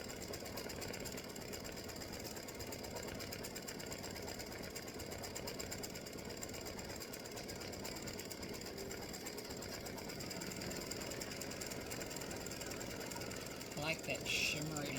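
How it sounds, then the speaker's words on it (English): An embroidery sewing machine stitches out a freestanding lace oak leaf design, giving a steady, fast mechanical chatter that runs continuously at low level, with a voice speaking over it. "So this takes 13 minutes stitching time to stitch this design out."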